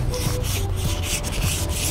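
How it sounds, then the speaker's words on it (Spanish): Steady abrasive rubbing of sandpaper on a wooden electric guitar neck, continuous back-and-forth strokes close by with a low machine hum underneath. "aquí metiéndole a la lijada"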